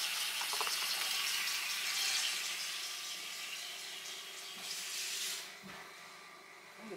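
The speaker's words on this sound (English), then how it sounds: "let me put some water in here" Tap water runs into a cooking pot in a home kitchen, a steady broadband rush that holds for several seconds and then softens and changes pitch as the pot fills, with no talking.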